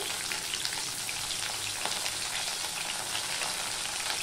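Pointed gourd (potol) fries with salt and turmeric in hot oil, a steady, dense sizzle that stays even and close throughout with no voices.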